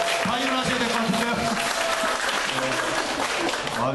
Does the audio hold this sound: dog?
no